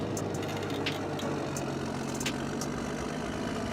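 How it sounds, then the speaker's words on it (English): A Caterpillar D8H Turbo bulldozer with a turbocharger runs at a steady idle, its heavy engine giving a continuous low drone at moderate level. Faint clicks and clatter are heard over it. "the sound of the Caterpillar D8H Turbo, which with its powerful engine and characteristic turbocharger noise creates a signature sound of power and performance"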